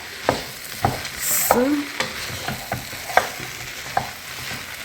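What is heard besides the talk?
stirring and mixing fried vegetables in a pan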